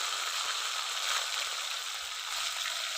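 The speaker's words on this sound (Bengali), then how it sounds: "তেল গরম হয়ে গেছে, তেলের মধ্যে কাঁকড়াগুলো দিয়ে দিব।" Crabs frying in hot oil in a pan, a steady bright sizzling crackle that stays even and fairly loud throughout, with no voices.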